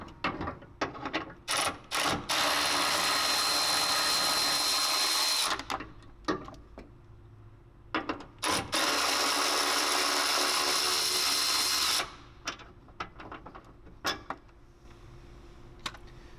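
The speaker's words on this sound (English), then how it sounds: "we're going to be removing the bolt holding the brake lines to the frame, as well as the bolt holding the plastic inner frame cover" A ratchet wrench works bolts loose on a Toyota Tacoma frame: long bursts of fast, close mechanical clicking and whirring, broken up by shorter ratchet strokes and metallic taps, with no voices.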